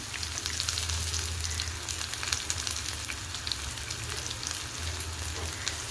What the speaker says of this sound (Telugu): ఇప్పుడు చిన్నగా కట్ చేసి పెట్టుకున్న ఒక చిన్న ఆనియన్, దీనిలో కరివేపాకు వేద్దాం.